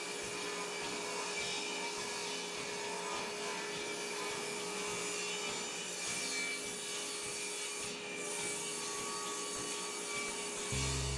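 Wooden boards being sawn for shop drawers, a steady rasping cut running the whole time with rhythmic strokes over a constant machine hum, close and fairly loud.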